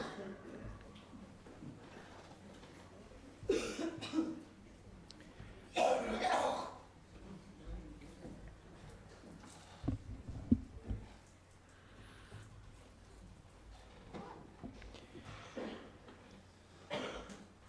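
Several coughing bursts scattered across the clip, with a couple of louder coughs standing out amid quiet room noise and soft talk.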